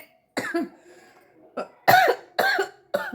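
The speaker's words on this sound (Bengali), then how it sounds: "কাশিটা কমছেই না, জানো আজ কতদিন ধরে কাশি" A person coughs repeatedly, about five harsh, chesty bursts in an uneven rhythm, loud and close with short pauses between them.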